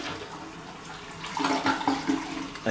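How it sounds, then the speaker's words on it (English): A hotel bathroom toilet, one that clogs easily, flushes close by; a steady rushing wash swells louder partway through and carries on to the end with no talk. "Comes complete with Help Helen Smash toilet."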